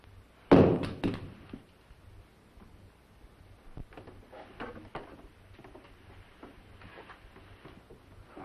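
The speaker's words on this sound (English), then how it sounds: "Throw your gun down." A handgun is thrown down onto the floor in a 1961 crime thriller scene, landing with a single sharp, close thunk and a brief rattle, followed by faint shuffling and quiet room sounds.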